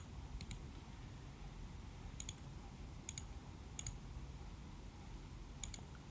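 Faint computer mouse clicks on show and hide buttons come in sparse, sharp single and double taps over a low steady background hum.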